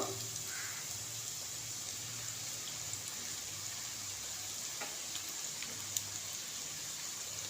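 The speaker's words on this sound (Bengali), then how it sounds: "সবজিটা ভাজা হয়ে গেছে এবার দিয়ে দিচ্ছি চাউমিনগুলো" Vegetables and chowmein noodles fry in a pan during village cooking, giving a steady, even sizzle and crackle throughout with a few small pops and no talking.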